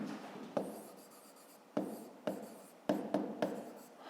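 Pen or pencil writing by hand on paper during a fifth-grade maths exercise, with short taps and scratchy strokes at an uneven pace, close and fairly quiet, with no talk.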